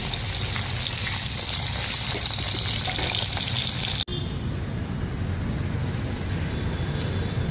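Tempering for lemon pulihora crackling in hot oil with cumin, mustard seeds, chana dal, cashews, and split green chilies, a steady close sizzle that drops abruptly and resumes softer with fine popping.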